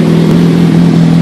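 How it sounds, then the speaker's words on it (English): A 2005 Honda CBR600 motorcycle fitted with a Yoshimura RS-5 carbon fiber exhaust runs loud and close, a steady strong engine drone with no talk. "RS-5 exhaust. Let's go ahead and hear it."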